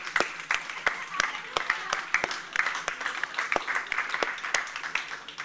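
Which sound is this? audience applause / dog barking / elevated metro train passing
audience applause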